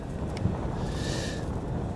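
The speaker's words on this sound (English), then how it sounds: "And I can hear the props. It's really fighting the wind." High wind gusting across the microphone with the faint, steady high-pitched whine of a DJI Mini 2 drone's propellers hovering overhead, the motor tone strained and partly buried under the rushing wind noise.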